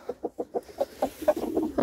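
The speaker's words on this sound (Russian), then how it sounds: "Вон там петушки гуляют." Hens and roosters cluck close by in a farmyard, a quick series of short, evenly spaced clucks that grow denser and overlap toward the end, with no talking.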